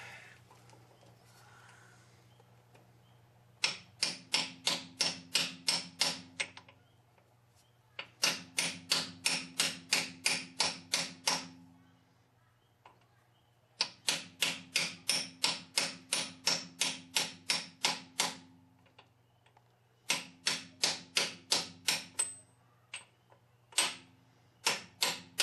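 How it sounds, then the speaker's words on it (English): Bursts of rapid metallic hammer strikes on a socket seating a part in a 2002 Dodge Dakota front suspension, about a dozen blows each, repeated in four sets with short pauses between, close and sharp. "And as I'm hammering it, I should feel it bottom out."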